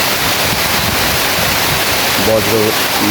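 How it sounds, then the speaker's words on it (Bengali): Steady, dense rush of heavy rain in Mirpur, Dhaka, loud and close, with a faint tonal hum rising briefly near the end. "দেখেন বৃষ্টি, ভালো বৃষ্টি হচ্ছে।"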